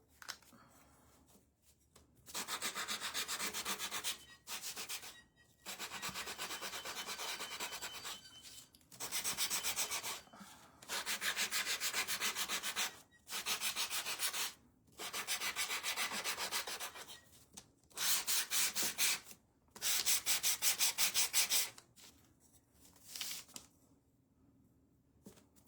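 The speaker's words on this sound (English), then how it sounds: "Makes a world of difference when you have a new piece of sandpaper." Fresh sandpaper rubbed by hand over a wooden craft piece, a steady rasping hiss in repeated strokes lasting a few seconds each with short pauses between, close and moderately loud.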